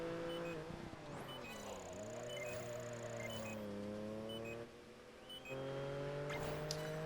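Race car in Project Gotham Racing 4 with its engine droning and revving through shifting pitches as it slides around a lap, with tire noise over a sustained, fairly quiet motor tone.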